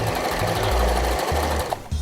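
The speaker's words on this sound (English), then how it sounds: "I'm going to sew up the entire length" A sewing machine runs in steady bursts, stitching the arm seam of a handmade stuffed animal, close and loud with brief pauses between runs of stitches.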